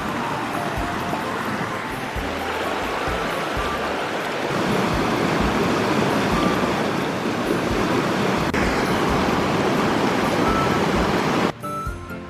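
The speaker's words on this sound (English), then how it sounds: "Here's some water running over in that direction. I think there's a small waterfall over there" Water runs over rocks from a small waterfall along a forest trail in Sussex, New Brunswick, a loud, steady broadband rush filling the whole scene without pause.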